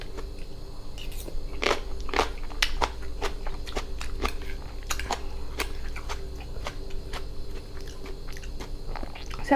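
Crunchy chewing of green papaya salad and giant sea snails, a run of sharp, close bites and crackles repeating steadily with no talk.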